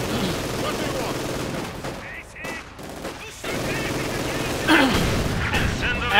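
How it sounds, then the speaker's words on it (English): Infantry small-arms gunfire in Company of Heroes 2, a World War II real-time strategy game, crackling in dense bursts throughout a 1v1 match alongside other battle sounds, with a commentator talking over it. "We are taking infantry fire."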